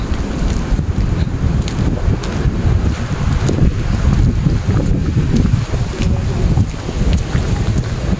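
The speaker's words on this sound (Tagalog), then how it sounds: "Ang lakas ng hangin." Strong, cold wind at People's Park in Tagaytay City roars and buffets the microphone continuously, a dense low rumble with gusting surges and no voices.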